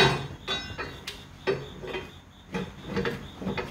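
A crowbar prying a rear brake rotor off a Chevy/GMC Silverado dually, a series of irregular metallic knocks and clanks, close and moderately loud, with scraping between hits.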